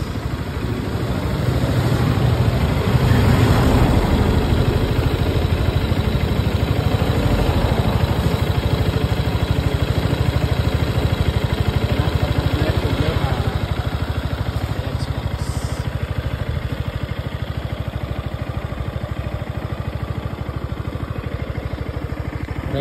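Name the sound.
motorcycle engine idling after 82,000 km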